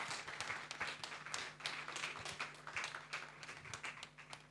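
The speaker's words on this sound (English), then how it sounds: "Can we please, with a rousing applause, welcome Mr. Adewale Ajayi" An audience at a Nigerian tax reform forum claps steadily and quite faintly throughout, as if heard from a distance over a low room hum.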